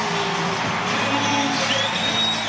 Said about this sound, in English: big round of applause for Max Muncy, his long-awaited return